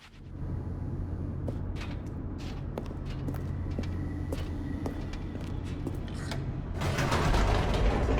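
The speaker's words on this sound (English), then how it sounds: "The elevator raced downward, plummeting towards an unknown fate." An elevator descends in the video game The Stanley Parable 2, giving a steady mechanical rumble with scattered creaks and ratcheting clicks that grows louder toward the end.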